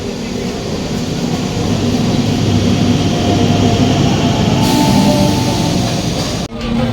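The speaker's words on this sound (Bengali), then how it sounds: "এই ট্রেনটা করে নামলাম আমরা বন্ধুরা ট্রেনটার মধ্যে প্রচুর ভিড় ছিল" A loud, continuous rumble of a crowded passenger train at night, steady throughout, briefly cut by a sharp dropout near the end.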